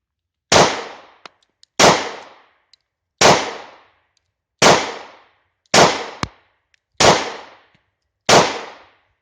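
A German P.08 Luger pistol fires one-handed, giving seven loud, sharp shots at a slow, steady pace, each with a short decaying echo and near-silence between.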